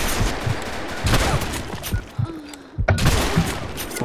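Rapid bursts of gunfire in the video game BlackShot crackle in quick succession, loud and close, with a short pause before another volley resumes.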